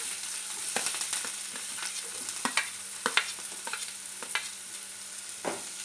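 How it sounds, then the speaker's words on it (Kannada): Onions fry in hot oil over a low flame, a soft continuous sizzle punctuated by sharp spatula taps and scrapes against the pan, with no one speaking. "ಈರುಳ್ಳಿ ಸ್ವಲ್ಪ ಫ್ರೈ ಮಾಡ್ತೀನಿ"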